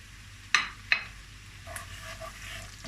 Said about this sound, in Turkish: Böyle bir turu karıştıracağım.